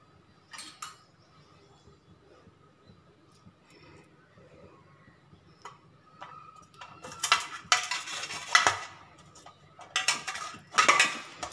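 Spoon scraping the pulp out of cooked drumsticks in a bowl, a scatter of light scrapes early, then bursts of louder scratchy scraping and clinks toward the end, close and with no talk.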